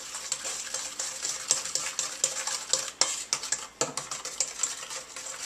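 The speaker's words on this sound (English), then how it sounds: "Stir it up good." A spoon stirs brownie batter in a bowl, scraping and clinking against the sides in an uneven, quick rhythm of close, quiet knocks with no talking.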